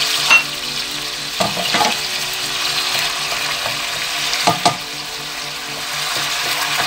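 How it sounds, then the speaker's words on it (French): Meat and chopped onion fry in hot oil for a rice couscous, a steady broadband sizzle with a few sharp spoon scrapes and clinks against the pan, no voices. "Donc là, on va laisser colorer la viande. Vous ajoutez l'oignon haché"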